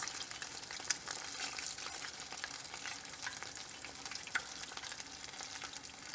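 Crab rangoons deep frying in hot oil give a continuous bright crackling sizzle. A couple of sharper pops rise above the steady hiss, with no talking.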